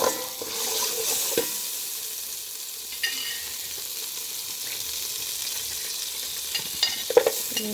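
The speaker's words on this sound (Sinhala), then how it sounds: "අපි මේක මේ ටෙම්පරාදුර හලා ගන්න යන්නේ" Garlic and ginger temper in hot oil, giving a continuous bright sizzle with occasional stirring clinks and pops.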